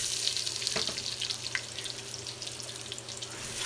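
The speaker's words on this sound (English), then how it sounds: "You're going to add in that tablespoon of olive oil. And then you're going to go ahead and add in your potatoes," Potatoes, onions and carrots fry in a tablespoon of olive oil for a lamb stew, giving a soft, steady sizzle with faint crackles close by, with no voices.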